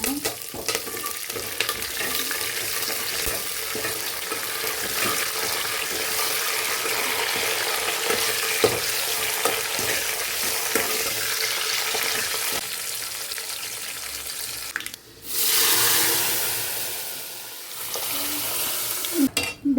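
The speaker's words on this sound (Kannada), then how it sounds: "ಸ್ವಲ್ಪ ಎಣ್ಣೆ ಕಾದಿದ ನಂತರ ಎಲ್ಲ ಐಟಮ್ಸ್ ಏನೇನಿದೆ ಹಾಕ್ಕೊಂಡು ಸ್ವಲ್ಪ ಫ್ರೈ ಮಾಡೋಣ" Spices sizzle and fry steadily in hot oil in a pan for palak dal, a dense continuous crackle that breaks off briefly before a louder rushing hiss near the end; no talking.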